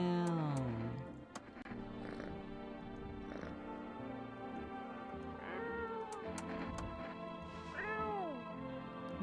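A cat in the video game No, I'm Not a Human gives several separate meows spread across the stretch, some drawn out into plaintive caterwauls, heard close over a low droning game ambience.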